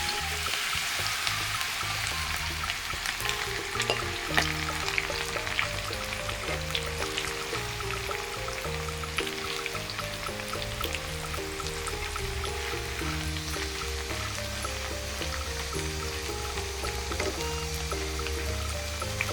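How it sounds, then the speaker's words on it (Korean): Minari (water dropwort) batter frying in hot oil over medium heat, a steady dense sizzle and crackle that holds evenly throughout, close and fairly loud. "미나리 반죽을 한 번에 넣어 5분 정도 튀기듯이 부쳐주세요"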